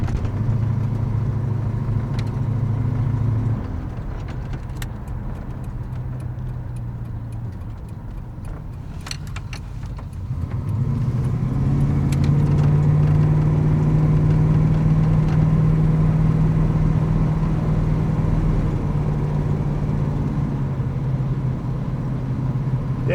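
A throaty 454 big-block V8 truck engine with a Flowmaster 50 series exhaust idles with a deep rumble, then revs up and holds a loud, droning exhaust note as it pulls under load.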